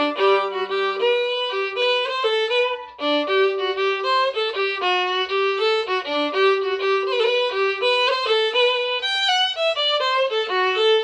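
A solo fiddle plays the first part of the jig "Maid at the Spinning Wheel", quick bowed notes in a steady lilting rhythm, clear and close with no voices.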